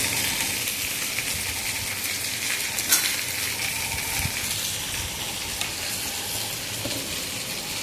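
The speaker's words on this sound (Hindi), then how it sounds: "भिंडी को खुला में ही ऐसे भूनना है" Okra frying in an open pan with onions for a Chhattisgarhi dish: a steady, close sizzle and crackle runs throughout, with a few faint stirring scrapes and no talking.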